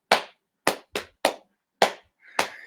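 Hands slapping the lap in body-percussion drumming, six crisp separate slaps in an uneven rhythm, with a faint voice just before the last one.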